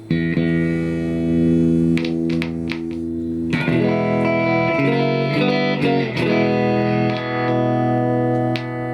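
Sustained clean-tone electric guitar chords ring out loud and full through a VHT Special 6 Ultra handwired tube amp head, with picked notes and chord changes partway through.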